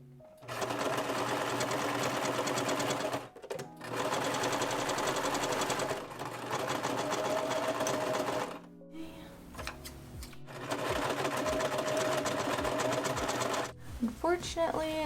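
A sewing machine stitches a fabric lining into a crochet crossbody bag in loud, continuous runs, with brief pauses and some handling noise between the stretches of sewing.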